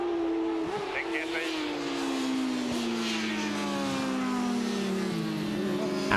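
600cc racing motorcycles at the 1995 Cock O' The North road races in Scarborough accelerate hard downhill, a high engine whine that falls steadily in pitch as they pass, heard under continuous race commentary.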